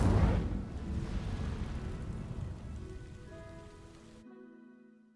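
An Incendio fire spell cast in Hogwarts Legacy bursts out with a loud whoosh, then settles into a crackling, hissing wash that fades over several seconds and cuts off abruptly, with no talk.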